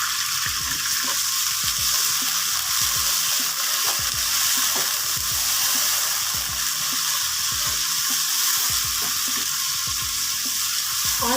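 Tomatoes and green chilies hit hot oil with a splash of water while making aloo palak, giving a steady, loud sizzle and crackle throughout with stirring clatters, no talking.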